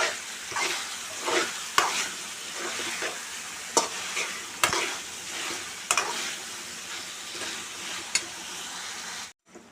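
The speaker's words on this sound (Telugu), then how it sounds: "అది వేసి ఫ్రై చేసుకోవాలి. హైలో పెట్టుకొని పావు గంట ఫ్రై చేసుకోవాలి." Chili-and-oil marinated chicken frying over high heat, a continuous crackling sizzle punctuated by sharp, regular spatula knocks and scrapes against the pan, ending in a short silence, with no speech.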